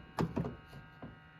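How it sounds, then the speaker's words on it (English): The micro switch in the driver's door handle of a VW Lupo 3L gives a few short, quiet clicks, two close together and then two more spaced out. "There is a micro switch in the door handle of the driver's door,"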